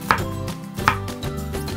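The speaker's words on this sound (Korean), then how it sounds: "양파는 채를 썰어 주도록 할게요" Onion is sliced into thin strips with a knife on a board, two distinct chopping knocks about a second apart, close and clear, with no talking.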